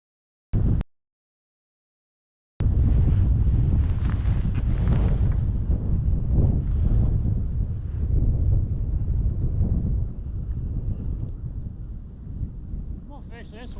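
Strong wind gusting across Lake Swepco during kayak fishing, a loud, rough buffeting roar hitting the microphone continuously after a short burst and a pause, easing slightly toward the end.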